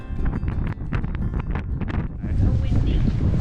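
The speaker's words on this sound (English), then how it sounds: "Super windy." Strong wind buffets the microphone at Cape Reinga on a North Island road trip, a loud continuous rumble that swells near the end, with voices talking over it.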